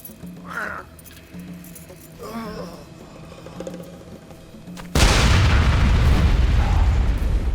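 Grenade explosion in a video game cutscene, a sudden loud blast that cuts in after quieter ambient sounds and a voice, then rumbles on heavily for a few seconds.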